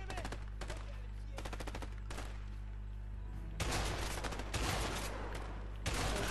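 Bursts of automatic gunfire crackle in the video game A Way Out, short rattling volleys at first, then heavier sustained firing later, over a low constant background hum.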